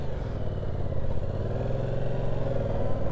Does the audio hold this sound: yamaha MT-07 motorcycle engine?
yes